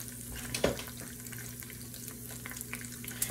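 A wooden spoon scrapes seasoned oxtail residue from the bottom of a stew pot over a low sizzle, with one sharp knock near the start and a few light scrapes afterward.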